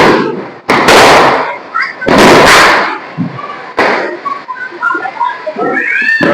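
Diwali firecrackers bursting outdoors in Surat, a few loud sharp bangs with crackling tails separated by pauses, the gaps filled with distant pops, chatter and voices nearby.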